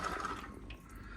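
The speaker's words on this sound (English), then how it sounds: "It's just draining now into the pocket here." Water draining out of a Viessmann Vitodens 100 boiler's plate heat exchanger into a pocket, a faint trickle with a few drips, quiet and brief.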